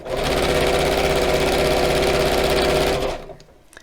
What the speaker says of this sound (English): just line these sides up as I'm sewing